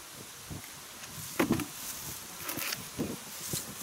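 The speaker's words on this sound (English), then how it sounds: "The wind is blowing things around." Wind gusts around a cabin, rustling and buffeting nearby with uneven surges and a soft steady hiss underneath, a few brief knocks, no one talking.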